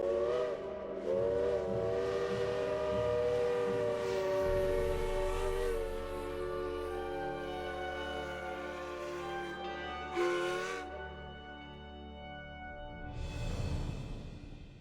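Southern Railway 154, a steam locomotive, sounds a long sustained whistle blast over rumbling running noise, followed later by a shorter blast as the train carries on.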